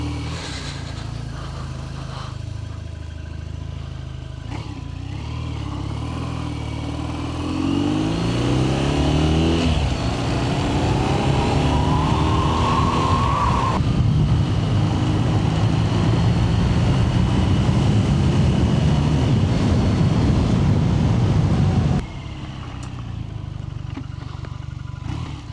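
BMW R nineT motorcycle fitted with an Akrapovic exhaust being ridden on a country road, a steady loud engine drone that rises in pitch as it accelerates through gears, with wind rush, then drops off suddenly near the end.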